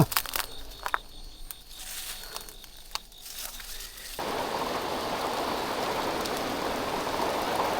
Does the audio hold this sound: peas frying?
no